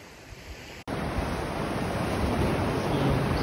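Ocean surf breaks on Driftwood Beach, Jekyll Island, a loud, steady roar of waves with wind noise across the microphone, continuous with no voices.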